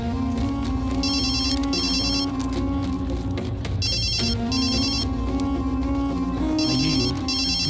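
A phone ringtone plays loud and close in repeated bursts with short pauses between them, over a musical backing track.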